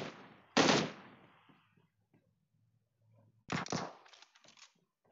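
PUBG Mobile gunfire: two sharp bursts of rapid automatic shots, the first early and the second about three seconds later, trailed by a few scattered lighter cracks, loud and close with quiet gaps between.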